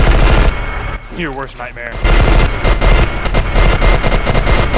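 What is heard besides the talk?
shotgun gunfire in video game E.Y.E. Divine Cybermancy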